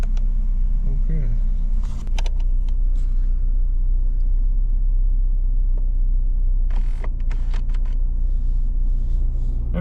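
A rental car's engine idles with a loud, close, continuous low rumble while the car fails to go into drive. Voices and brief clunks and rattles sit over the steady drone.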